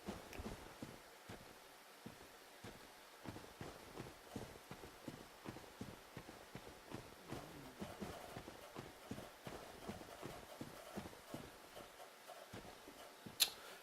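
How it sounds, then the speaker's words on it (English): Footsteps echo through a Dark Souls level, a quiet run of regular thudding steps in a steady rhythm against a faint, hollow ambient backdrop, with a brief sharp sound at the end. "I just heard some footsteps"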